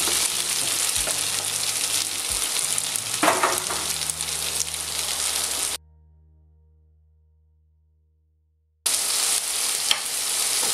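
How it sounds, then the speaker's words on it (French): Shallots and lardons sizzle and crackle loudly in a hot frying pan, with occasional stirring scrapes, before the sound cuts out to near silence for a few seconds and then resumes. "maintenant je mets échalote lardon"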